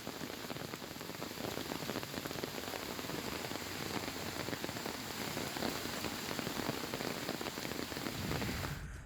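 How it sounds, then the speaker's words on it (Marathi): Rain falls steadily in Solapur after a twelve-day dry spell, a soft continuous patter of drops that stops abruptly at the very end. "सोलापुरात तब्बल 12 दिवसांनी पावसानं हजेरी लावली आहे।"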